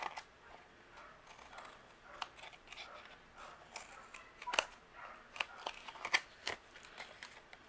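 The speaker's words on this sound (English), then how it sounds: "We're going to trim off the excess here." Scissors trimming excess paper off a die-cut piece in papercraft, a run of quiet crisp snips and small paper rustles, close up and soft, with irregular clicks scattered through.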